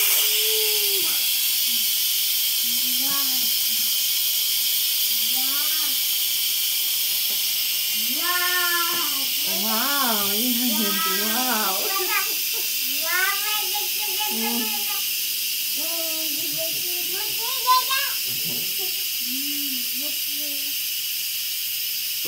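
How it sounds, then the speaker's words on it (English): Steam hisses out of an Instant Pot pressure cooker valve while a low country boil cooks, a loud, steady rush lasting throughout as voices, including a child's, talk over it. "And now we're gonna release the steam."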